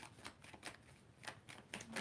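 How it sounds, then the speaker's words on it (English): Tarot cards pulled one after another from a deck: a string of quick, papery flicks and slides, about six close, crisp bursts spread evenly over two seconds. "Let's get some more cards out, Jim."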